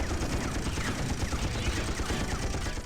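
Rapid gunfire of tiny bullets in the video game Jets'n'Guns forms a dense, continuous rattling barrage that stays loud and steady throughout.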